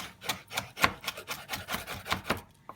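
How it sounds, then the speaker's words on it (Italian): A knife rocks rapidly on a cutting board finely chopping parsley, about a dozen quick, even chopping strokes close up, with no talking. "Tritare finemente il prezzemolo."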